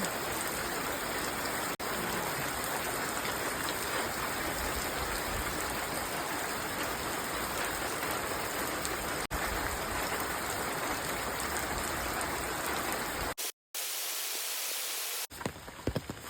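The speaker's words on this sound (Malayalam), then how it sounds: "മഴ പെരുമഴയാണ്" Heavy monsoon rain pours during a flood, a steady broad wash of falling water that runs unbroken for about thirteen seconds before a brief dropout, then resumes, with no voices.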